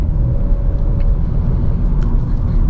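A Honda Civic Touring with a CVT gearbox, in drive and accelerating uphill, gives a steady low engine rumble heard from inside the car, continuous and fairly loud for the whole stretch.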